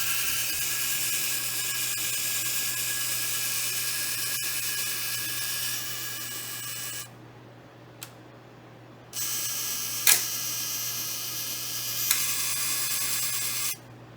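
The self-timer on a Peafowl DF-1 camera whirs in a steady buzzing run, stops, then starts again, with sharp clicks of the mirror and shutter firing partway through, close and fairly quiet.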